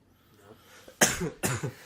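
Two sharp, loud coughs from a person close by, about half a second apart, each breaking into a short rough rattle, with faint background noise before them.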